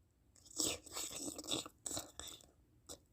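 A cat laps from a bowl of milk close by, with several wet, crunchy slurping bursts in quick succession and short pauses between them.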